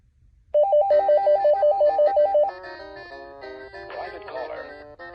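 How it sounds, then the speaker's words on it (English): An AT&T E5960C 5.8GHz cordless phone with digital answering system rings through a complete cycle: a loud, rapid warbling electronic trill lasting about two seconds, followed by a softer melodic tone pattern, heard alone and close. "So you can also hear it ring a complete cycle"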